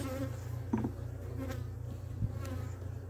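Honeybees buzz steadily around an open hive during an early-season inspection in Adana, a dense close drone with a few louder passes near the frames.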